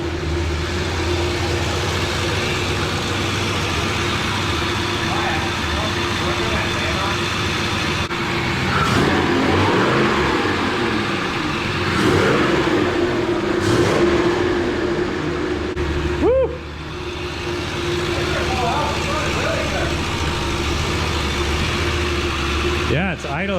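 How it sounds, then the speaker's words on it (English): A 1,000HP sleeper Ford F150 idles steadily just after its first start, smoking from oil blown through the exhaust, a loud continuous engine drone with voices talking over it. "it's idling surprisingly well"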